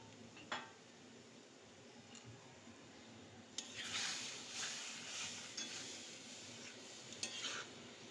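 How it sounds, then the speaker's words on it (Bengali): Hilsa fish head, tail and roe are stirred in a pan over a clay stove, with soft scraping strokes and a light sizzle that grows louder partway through, a few sharp utensil clinks over steady background. "একটু নেড়ে চেড়ে দিচ্ছি।"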